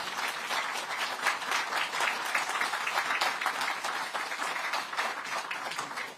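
A large audience applauds at a political party assembly in Korea, dense sustained clapping with a steady roar that carries on unbroken before slowly easing.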